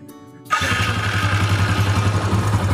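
A Yamaha Jupiter Z motorcycle engine starts after a brief quiet moment, catching at once and settling into a steady, loud, close idle that runs to the end.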